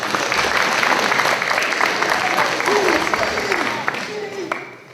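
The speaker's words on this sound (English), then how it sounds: "Let's give a round of applause." A storytelling stage audience gives a round of applause, dense clapping close and strong for about four seconds, with a few voices and cheers mixed in before it fades.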